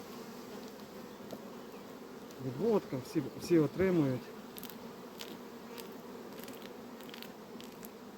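Honey bees hum around beehives in a steady, close drone throughout, while someone speaks Ukrainian briefly in the middle over the buzzing.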